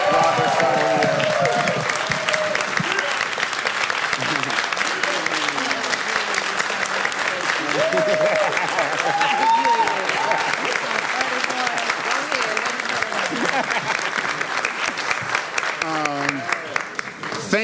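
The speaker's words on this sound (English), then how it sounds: "I just give another round of applause to our panel" Long, sustained audience applause for a panel at the close of a plenary session, dense clapping with crowd murmur and voices talking underneath throughout.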